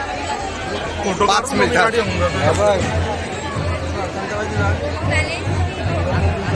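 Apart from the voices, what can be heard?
crowd chatter at Mahalaxmi temple, Kolhapur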